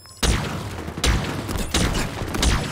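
Heavy weapon firing in Halo Infinite's Fracture Tenrai Fiesta mode: four loud, booming shots about three-quarters of a second apart, each with a long rumbling tail, close and dominant.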